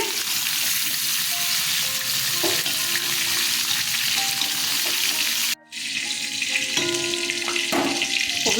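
Cauliflower pieces frying in refined oil, a dense close sizzle with occasional spoon clinks and stirring, broken by one brief silent gap before the sizzle resumes.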